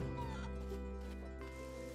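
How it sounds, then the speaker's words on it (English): Chickens cluck in the survival game SCUM, short pitched clucks over a steady droning background hum. "is that another chicken?"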